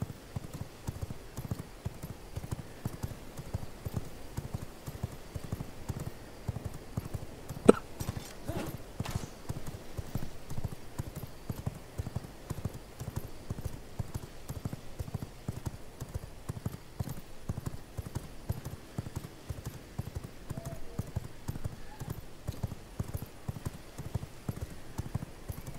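A horse galloping in the V Rising video game, with steady rhythmic hoofbeats running continuously at an even pace, moderately close, with one sharp click partway through and no talking.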